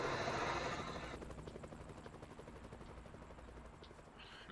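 Steady rhythmic chop of a helicopter's rotor in the video game American Truck Simulator, loud at first and then fading slightly, ending with a sharp click.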